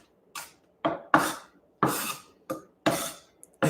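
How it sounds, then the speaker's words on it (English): A knife chops onions on a board for a Finnish beet salad, about seven separate, sharp strokes, each a brief scraping cut with quiet gaps between, close by and alone. "don't do as I do with my onion cutting"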